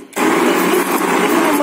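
A blender with water pulses hard after a brief quiet start, then runs at a loud, steady motor whir with a small dip in the middle.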